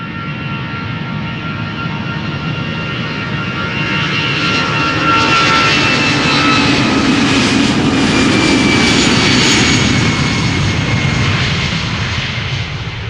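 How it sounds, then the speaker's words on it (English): EasyJet jet airliner departing Schiphol for London Luton, its engines a loud sustained roar that swells midway and holds, with whining tones sliding over the broad rumble. "EasyJet flight 22512 going to London Luton."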